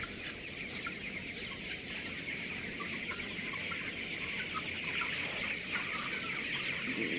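Young broiler chickens and cockerels about seventeen days old cluck and chirp continuously in a poultry farm shed, a dense steady chorus of many birds with no talking.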